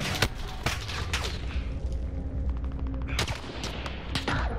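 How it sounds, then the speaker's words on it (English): Gunfire in a Call of Duty Warzone Plunder match: loud, sharp shots crack out in irregular bursts, a few isolated and a tight rapid cluster near the end, over steady game ambience. "I don't know where I'm getting shot from"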